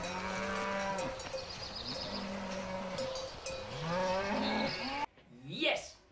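Cows moo repeatedly in a chorus of long, drawn-out calls, some overlapping, close and fairly loud, followed at the end by one brief separate low bellow.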